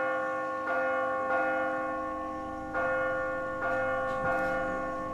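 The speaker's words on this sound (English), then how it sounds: "Maybe if I drop the bell?" A large church bell in The Walking Dead video game rings repeatedly, giving five clanging strikes at uneven intervals over a sustained metallic hum. The strikes are moderately loud, and no one speaks.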